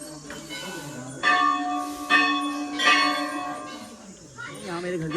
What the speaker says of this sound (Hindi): यहाँ पे इतनी घंटियाँ बंधी हुई हैं।